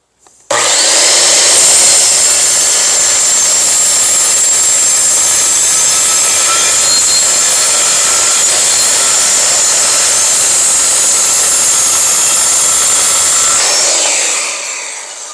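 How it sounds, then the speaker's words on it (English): A power saw cuts through a board for about fourteen seconds in one loud, continuous, close-up whine and rasp of blade through wood, then winds down at the end, with no voices. "If I come back to this side, the body of the saw is resting on the board, which makes it stable and makes it easier to get an accurate cut."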